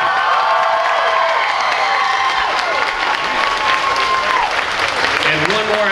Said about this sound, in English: another big round of applause for all of our contestants